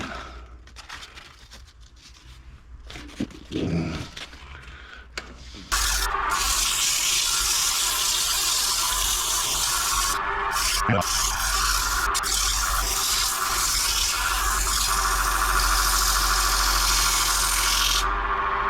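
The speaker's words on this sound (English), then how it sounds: "Let me get a piece of sandpaper and see if that's going to sand out decent." Sandpaper pressed against a spinning wooden double decker serving platter on a lathe, a loud continuous rushing hiss that starts abruptly partway through after a quieter stretch of faint handling and motor noise.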